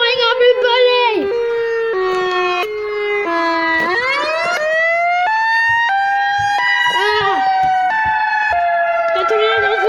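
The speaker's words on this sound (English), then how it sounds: "The tornado siren's going off, everybody!" A tornado warning siren wails loudly, long rising and falling tones sweeping up and down continuously and close, with no talk over it.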